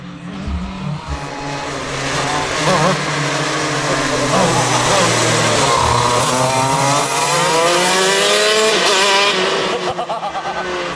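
A motorbike engine revving hard toward 15,000 rpm, a loud close high-pitched whine that climbs and falls in sweeping pitch waves for several seconds, with people talking over it.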